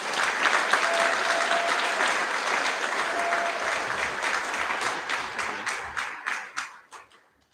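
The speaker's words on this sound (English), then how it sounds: "Big round of applause, please." Sustained applause from an audience at a school prize giving assembly for senior students, steady and dense, then thinning into scattered individual claps before it fades out.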